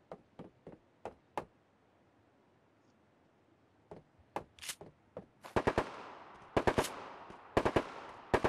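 Gunfire in the video game Knives Out, with scattered sharp single shots at first, then louder rapid bursts in quick pairs and triples toward the end, with no talk.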